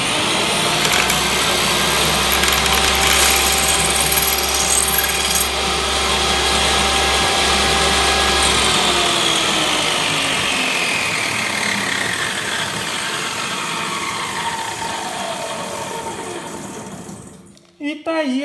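A benchtop table saw and handheld drill work together rounding a wooden dowel, a loud whirring hum with a low motor drone that cuts out partway, then the saw's ringing spin-down, close and continuous.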